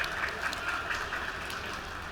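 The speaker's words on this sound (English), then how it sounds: "another round of applause for the CEO of Blackberry" An audience claps steadily for the CEO of Blackberry at the Expand North Star conference, a dense, even spatter of applause with no gaps across the short stretch, fairly close and moderately loud.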